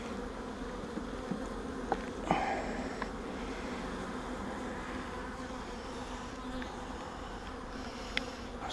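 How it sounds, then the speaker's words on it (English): Honey bees on hive frames give a dense, continuous buzz close by, with a few brief louder passes of individual bees and faint handling clicks underneath. "There's a lot of bees on the frames"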